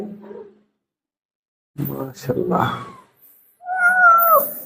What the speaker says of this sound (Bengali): আপনার বিড়ালগুলো অনেক সুন্দর লাগে